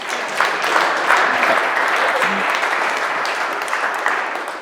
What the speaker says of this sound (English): You can give me a warm round of applause now if you want.